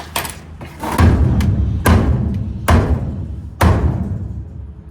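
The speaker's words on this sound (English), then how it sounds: "I need a dead blow hammer." Heavy dull thuds struck one at a time at irregular intervals, each blow solid and muffled without ringing, close by.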